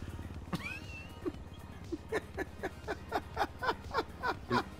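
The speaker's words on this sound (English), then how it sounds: "Goddamn cat!" A cat in an animated short meows repeatedly in a regular series of short, fairly close calls, roughly a dozen in a row, with a low hum underneath and a brief rustle near the start.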